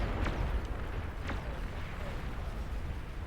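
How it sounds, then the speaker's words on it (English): Explosions rumble on in an 8v8 Beyond All Reason battle, a steady dense roar punctuated by a couple of sharper bursts, with no voices. "Explosions happening."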